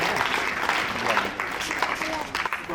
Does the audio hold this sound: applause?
yes